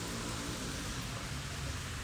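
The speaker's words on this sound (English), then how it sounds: "it started raining" Rain falls steadily onto an outdoor pond, a soft, even hiss of drops on water filling the whole moment at low level with no voices.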